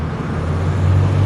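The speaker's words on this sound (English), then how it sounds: "Here's one of the buses I rode up." A Santa Cruz Metro route 35E bus, a C35LF, running close by with a loud, steady low engine rumble that swells slightly toward the end; no distinct air-brake hiss stands out.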